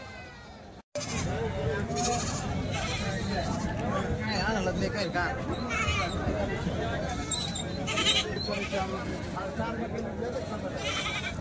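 Goats bleat repeatedly over a crowded background of people talking and bustle at the Shevgaon goat market, the calls coming from several animals nearby.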